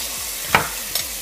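Garlic dropped into hot oil in a pan for Asian lettuce cups, giving a steady close hiss with two short clicks or scrapes from a utensil.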